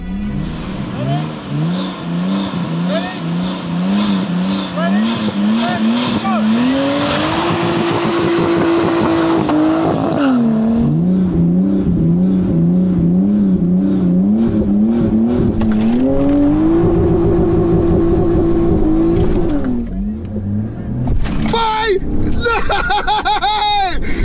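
A Nissan R34 Skyline races a BMW 530d: loud engine notes climb through the gears with repeated revving, shift dips and a brief tire squeal, heard close, while people shout excitedly over the cars.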